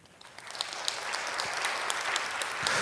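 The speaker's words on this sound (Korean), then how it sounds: "대신 박수해 주시기 바랍니다." Church congregation applauding during a revival service, a steady wash of many clapping hands filling the room for nearly three seconds.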